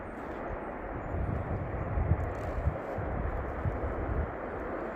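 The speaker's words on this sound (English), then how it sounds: "You can hear some noise in the background. That is the freeway" Distant freeway traffic rumbles as a steady, low, broad hum across a snowy winter woodland under blue sky, faint and continuous with no voices.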